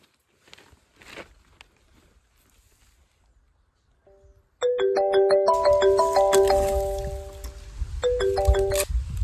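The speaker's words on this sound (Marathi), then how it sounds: "तुझ्या फोनवरनं फोन कर मला" A mobile phone rings with a loud, repeating electronic melody that starts abruptly after a quiet stretch of faint background noise and continues to the end with a brief break, heard close by with no talk.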